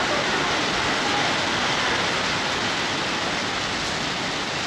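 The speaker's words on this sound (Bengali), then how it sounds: "আর এই রকম ঝমঝমিয়ে বৃষ্টি।" Heavy rain pours down steadily outdoors at a gurdwara, a dense, loud, unbroken hiss filling the whole span with no pauses and no voices.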